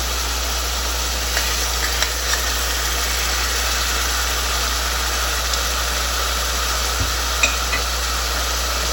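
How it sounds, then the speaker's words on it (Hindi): Onion-tomato masala with tomato paste is sautéed in a pan for a white chana and rice dish, giving a soft continuous sizzle with occasional light stirring taps under a steady low hum; no talking. "इसको अच्छी तरह भूनते हैं।"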